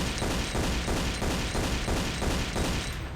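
Pistol gunfire in a Tomb Raider custom level, a rapid regular string of shots repeating evenly over a dense, loud background, no talking.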